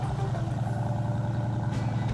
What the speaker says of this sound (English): I've got the engine running. I've got the car on fast idle, so it just warms up quicker. It's loud